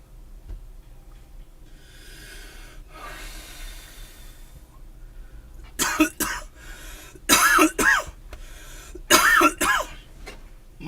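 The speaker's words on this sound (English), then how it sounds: "Mom's gonna be pissed when she hears me coughing like this." A person coughs and clears their throat in three loud, harsh bursts in the second half, after several seconds of quiet breathing and faint background hiss.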